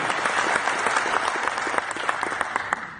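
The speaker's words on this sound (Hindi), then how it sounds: "मैं चाहता हूं आप तालियों से उनका स्वागत।" An audience claps steadily throughout, welcoming guests at a religious or political gathering; dense, continuous applause with scattered sharper claps, moderately loud and without speech.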